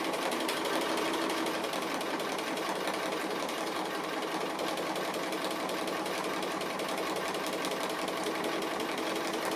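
A sewing machine stitches grey thread around an appliqué shape, running as a steady, continuous mechanical whir with an even vibrating drone from start to finish and no talk.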